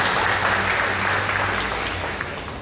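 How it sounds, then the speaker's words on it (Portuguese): A church congregation applauding together, a dense, steady wash of clapping that holds level and then fades slightly, with no voices over it. "Dá uma salva de palmas, né, irmãos?"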